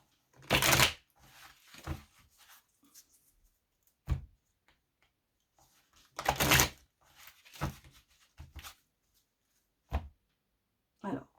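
A deck of tarot cards is shuffled in several short riffling bursts separated by quiet pauses, with soft taps and card handling between them.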